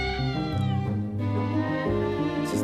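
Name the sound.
cat meowing in an alley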